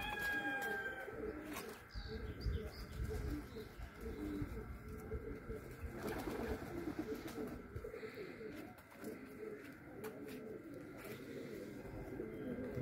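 Domestic flying pigeons coo softly and repeatedly in a quiet setting, a faint, low, rolling murmur over a light background hum.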